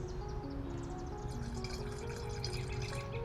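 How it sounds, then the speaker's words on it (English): Liquid weed-killer concentrate is poured into a sprayer jug, giving a quiet, continuous trickle and glug with faint drips close up, and no talking. "I'm just gonna kind of pour this in."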